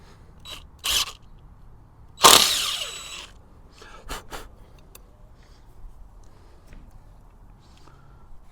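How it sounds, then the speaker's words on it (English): A power drill bores a hole into a tilting antenna mast support, with short, sharp whirring bursts separated by quiet pauses. The longest bursts rise strongly up close. "I'm going to drill"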